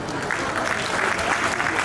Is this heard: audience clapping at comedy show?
yes